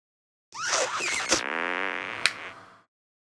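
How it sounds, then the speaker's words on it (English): Fart in the South Park: The Stick of Truth video game, one long, loud, buzzing blast lasting about two seconds, with a couple of sharp clicks partway through, then silence. "Try and fart on me."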